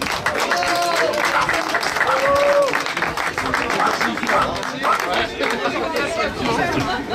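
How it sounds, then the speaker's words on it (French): Participants at an Easter Monday outdoor event in Masnières applaud amid lively chatter, clapping mixed with overlapping voices and a few raised calls throughout. "Et on applaudit"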